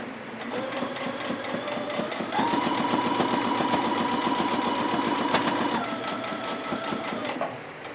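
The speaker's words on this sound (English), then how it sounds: "So I'll just baste along the 2 sides." A sewing machine bastes along the two sides of a large zippered tote bag, running in a steady rapid stitching rhythm for about eight seconds, with a brief shift in pitch and speed partway through, close and clear with no talk.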